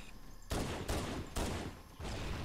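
Bursts of gunfire in the Halo: Combat Evolved campaign, four loud sustained volleys of shooting separated by brief gaps, with no talk over them.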